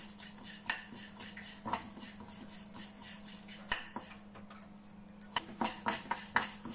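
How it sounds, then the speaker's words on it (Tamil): Broken green moong dal roasting in a pan while being stirred, giving a soft, steady clatter and scraping of a utensil against the pan, fairly quiet and close. "ஒரு கப்பு உடைச்ச பச்சை பயிறு, இது நல்லா ஃப்ரை பண்ணிக்கணும், நல்லா ரோஸ்ட் ஆகணும்."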